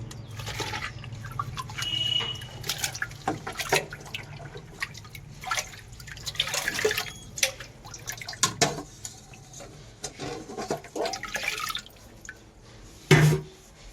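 One kilo of jaggery drops into a mother-culture buttermilk liquid, making irregular wet plops, drips and small splashes close by, with no voices.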